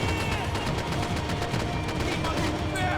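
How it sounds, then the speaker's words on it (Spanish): Continuous gunfire in the video game Max Payne, dense rapid shots layered over a busy, loud game soundscape with no clear gaps. "Además, estoy escuchando los disparos y no veo nada."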